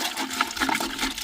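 Liquid poured and splashing into a container while mixing a neem oil solution for a paddy field, a short, close, steady rush of water.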